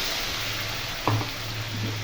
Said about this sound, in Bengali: পেঁয়াজের মধ্যে যে বাটা মশলাটা করেছিলাম সেটা দিয়ে দিলাম।